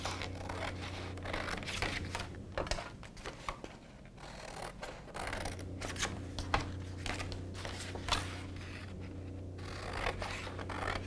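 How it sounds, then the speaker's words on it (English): Scissors snip through card stock, trimming the side sections off a pop-up birthday card in a series of close, crisp cuts and rustles with a low steady hum beneath. "The two side sections that we've created, we can then cut those off."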